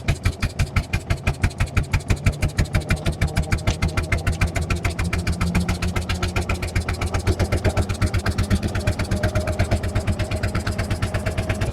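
Engine of a 1906 Sizaire-Naudin car running without a carburetor, a steady, fast, even chugging of firing pulses, close and loud, continuous throughout.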